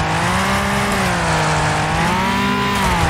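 A race car engine in a couch multiplayer racing video game drones loudly and continuously, its pitch rising and dipping slightly as the car speeds along.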